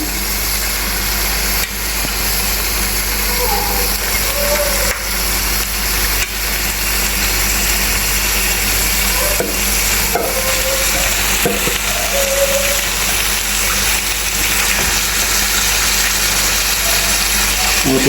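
One and three-quarter kilos of chicken fry in onion masala for a traditional chicken curry, a loud, steady, close sizzle that runs without a break.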